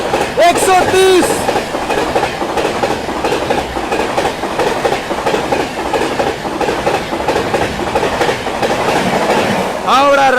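The Howrah Rajdhani Express rushes past at speed, a loud continuous rumble with rapid clickety-clack of wheels over rail joints and brief squeal-like tones at the start and end, with faint voices underneath.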